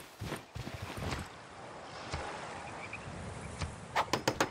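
Horse hooves clip-clop softly in Civilization VI, a quiet run of light rhythmic steps ending in a few sharper, clearer hoof strikes.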